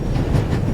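Steady rumble of a passenger train ride in The Raven Remastered, a continuous low rolling drone with faint rhythmic clatter, heard from inside a carriage.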